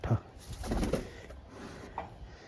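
Pigeons give a short, close coo, with a quick flutter of wings and a faint murmur behind.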